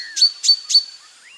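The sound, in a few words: character imitating a bulbul bird's call in a cartoon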